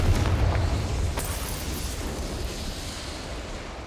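A fiery Confringo spell explosion booms in the Hogwarts Legacy video game, a loud burst with a few sharp cracks early on that fades into a long, rumbling wash.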